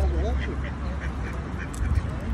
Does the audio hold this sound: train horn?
no